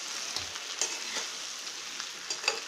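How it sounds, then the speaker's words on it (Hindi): Leftover-roti khandvi is gently sautéed in a pan, giving a soft continuous sizzle with light intermittent stirring taps, close and fairly quiet, with no voices. "इसे भूनेंगे। बिल्कुल हल्के हाथ से भूनेंगे जिससे खांडवी टूटे नहीं"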